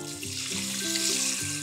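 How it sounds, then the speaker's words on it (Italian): Tap water runs steadily into a pot holding basmati rice, a continuous splashing rush with shifting pitch as the pot fills, close by and with no talking. "Lo vado a versare in una pentola e aggiungo semplicemente l'acqua."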